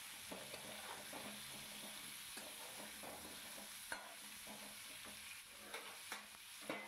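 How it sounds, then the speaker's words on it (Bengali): Pointed gourd pieces coated with salt and turmeric are stirred in a frying pan, giving a steady soft sizzle under repeated scraping and clacking of the spatula, close and continuous. "সম্পূর্ণ পটলগুলোকে নেড়ে নিয়েছি, নুন হলুদের মাখিয়ে নিলাম"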